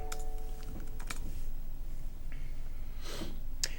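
Fingers tap a computer keyboard in quick, scattered clicks with short pauses, near and fairly quiet over a soft room hiss.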